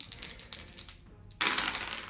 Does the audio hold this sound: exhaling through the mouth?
no